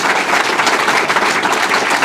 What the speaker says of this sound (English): Congresswoman Susie Lee, give her another round of applause